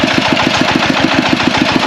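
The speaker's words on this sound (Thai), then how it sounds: "อันนี้เป็นเครื่องเจาะน้ำบาดาลเนาะขนาดน้อยนี่แหละ" A small groundwater well drilling machine's engine runs steadily at a drinking water plant, a loud close chugging with a fast, even pulsing beat throughout, no talking.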